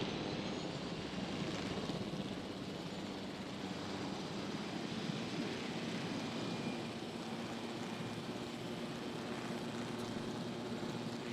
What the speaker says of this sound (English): I want to use an excuse to fly a helicopter right now